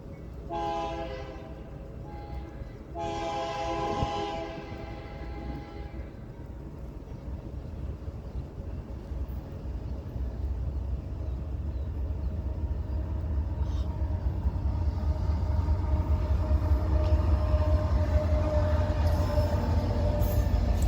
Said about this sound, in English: Leading the train today is BNSF AC 4400 CW 5709